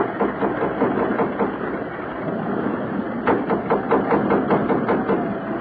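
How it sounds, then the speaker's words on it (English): Ship engines run with a continuous heavy drone, joined partway through by a rapid rhythmic pounding that swells in strength. "Those engines sound like the stern's coming clean out of the water."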